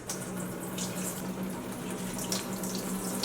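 Overnight tap water pours from a watering can onto an indoor houseplant, a continuous soft splashing trickle close by with no talking.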